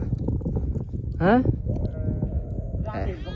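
Sheep and lambs on the Mundhum Trail in the hills of eastern Nepal give two clear, wavering bleats, one loud and near and a fainter one later, over outdoor background noise and low voices.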